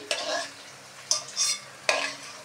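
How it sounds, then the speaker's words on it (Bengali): Lentil fritters (bori) frying in a pan for a pumpkin stem and potato dish: close, bright sizzling bursts come in three or four surges as the pieces are stirred and turned. "দেখো এই যে বড়াটা ভাজা হচ্ছে"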